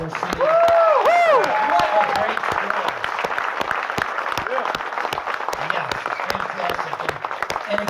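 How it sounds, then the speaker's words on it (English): Audience at a guitar clinic in Michigan breaks into loud, sustained applause with cheers, a close dense wash of clapping that stays steady throughout, with a few shouts over it. "can we get a round of applause for Marty and all the great people here at M"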